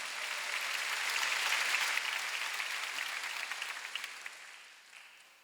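A church congregation applauds during a Sunday worship service, a dense sustained clatter of many hands that swells early, then gradually thins and fades toward the end.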